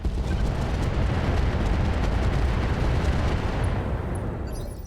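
Mech weapons fire in the RogueTech mod of the BattleTech video game, a dense, loud sustained barrage of explosive booms and rumbling that fades slightly at the end.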